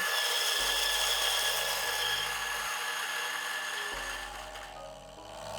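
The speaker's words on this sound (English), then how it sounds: "So just activating the motor, taking out the top, dropping it in." A DF83 big burr coffee grinder grinds coffee beans with a steady, close motor whir and gritty rasping, holding level for several seconds before thinning out toward the end.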